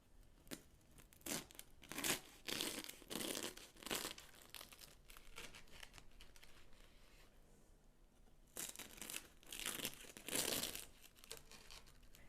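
A knife cuts through crispy pan-baked börek with quiet, crackly crunching bursts, a pause in the middle, then more crisp cutting.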